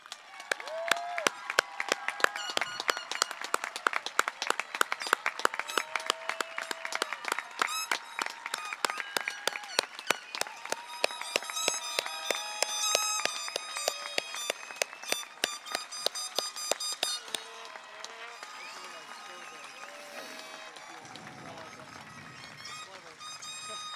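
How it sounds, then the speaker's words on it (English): A commencement audience claps for a graduating class, a dense rapid patter of many hands layered with music and sustained tones, holding steady before thinning near the end, fairly distant and moderately faint. "stand if you can, and applaud our graduating class of 2022"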